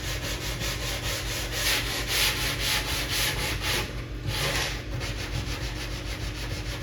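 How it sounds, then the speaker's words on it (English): Sandpaper of 180 grit rubs the bodywork edges of a Donkey Kong 3 arcade cabinet, a loud, continuous scratchy hiss in quick back-and-forth strokes that swell and ease, close up, with no voices. "I'm going to grab a new piece of 180 grit, and we're going to get these edges real quick."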